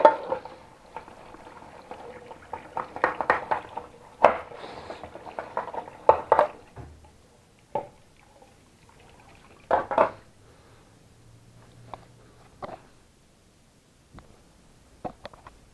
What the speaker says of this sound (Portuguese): que eu tenho que lavar a louça.